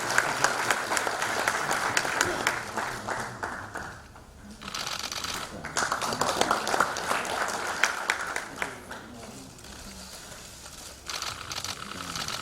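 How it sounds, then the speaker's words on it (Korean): Audience applause at a Korean National Assembly ceremony marking the 20th anniversary of the June 15 inter-Korean joint declaration, welcoming the Assembly speaker; dense, steady clapping fills the clip with a brief lull midway. "큰 박수로 맞아주시기 바랍니다."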